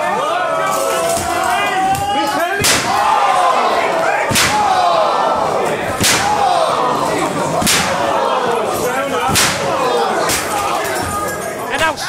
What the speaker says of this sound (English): And now stomping the TV and breaking it in half on top of Big Joe.